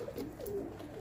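Pet birds in a home pet room give soft low cooing calls, a few gentle rising and falling coos close by over a quiet room background.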